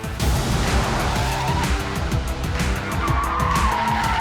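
A Porsche Taycan corners hard at high speed, its tires squealing steadily through the turn over a constant loud road and wind roar, with no voices.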